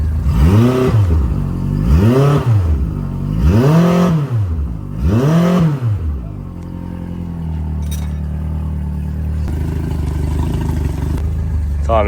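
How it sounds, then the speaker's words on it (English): A nearby rebuilt boat's engine revs in neutral up and down four times in a rhythmic rise and fall, then drops back to a steady idle rumble. "Give it a little rev."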